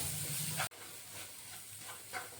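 Spices with ginger and garlic lightly roasting in a pan for a pea masala kachori filling give a steady close hiss, loud at first, then dropping to a softer, even sizzle with faint crackles.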